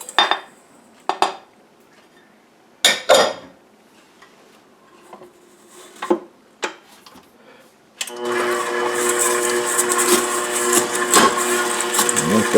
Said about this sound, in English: The first thing to do is to cream the butter and the sugar together